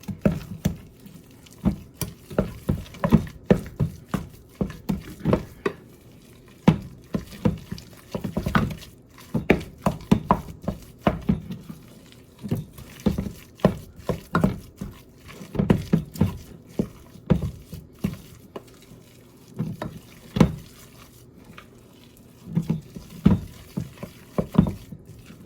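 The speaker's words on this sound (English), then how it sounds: "to crush the ground beef into the mixture" Hands crushing and mixing ground beef into a meatball mixture, producing soft, wet squelching pats in an irregular, repeated rhythm, close and fairly quiet throughout.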